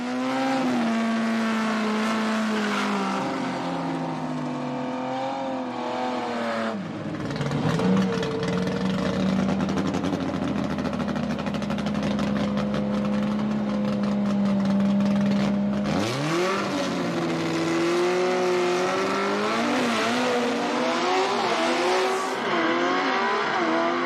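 Gasser drag race cars from the Southeast Gassers Association roaring down the strip, loud sustained engine howl rising in pitch through the gears, a brief lull, then another car launching and accelerating hard.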